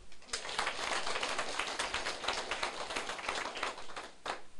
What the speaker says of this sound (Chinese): 家己鼓掌一摆，好无？